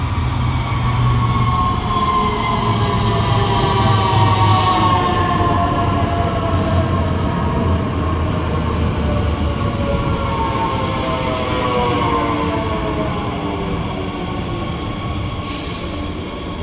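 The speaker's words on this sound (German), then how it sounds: "Jetzt fahren wir mit einem ganz besonderen Zug der S-Bahn Rostock wieder vom Holbeinplatz, aber diesmal nach Warnemünde." Riding aboard an S-Bahn Rostock train from Holbeinplatz toward Warnemünde: a constant loud rolling rumble fills the cabin while wheels squeal and whine in drawn-out, sliding tones.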